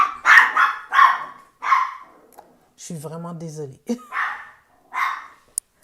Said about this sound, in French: quand il y a d'autres pitous qui jappent, elle jappe aussi